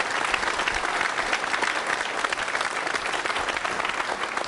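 A crowd at a quiz show for trainee state services officers breaks into loud, dense, sustained applause, a thick continuous wash of clapping with no speech over it.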